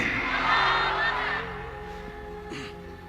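A crowd gathered for a Peace TV event shouts an Allahu Akbar chant in unison, a loud, roaring collective cry that swells and then fades into a softer murmur.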